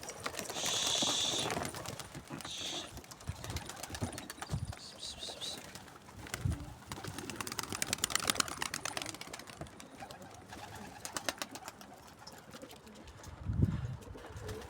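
Posta pigeons taking off and flying around a coop, with bursts of wing flapping, occasional cooing and scattered bird calls at moderate distance, fairly faint overall.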